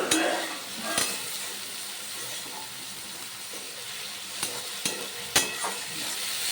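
Grated onion frying in oil in a pan, a continuous bright sizzle close by with a few scattered clicks and scrapes of stirring, and no one talking.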